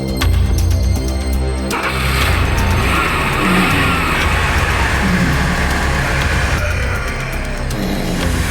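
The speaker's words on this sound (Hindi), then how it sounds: "गाड़ी चालू करो" A car engine roars loudly and close, revving hard with a broad rushing, skidding noise as the vehicle pulls away, lasting the whole stretch with no talk.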